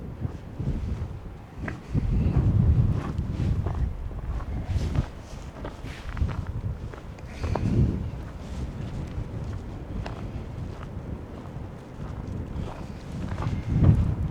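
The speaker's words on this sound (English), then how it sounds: "I'm specifically walking in this direction because of the wind." Gusty wind buffets a chest-mounted microphone on a Montana dirt road walk, rising in loud low rumbling bursts and easing between them, with faint footsteps beneath.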